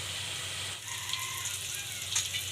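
Cauliflower mixed with salt, turmeric and chili powder fries in a pan, giving a steady loud sizzle and hiss with small crackles throughout.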